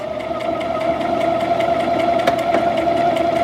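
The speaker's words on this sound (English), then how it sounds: "Now it's sewing the left side backwards." Brother XM2701 sewing machine stitching a buttonhole, running steadily backwards along the left side with a continuous mechanical hum and fast rhythmic needle pulses, close and fairly loud, with no talking.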